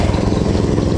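Engine of a Honda Vario scooter, started with the electric starter, running steadily and close by with an even low idle hum for the whole second.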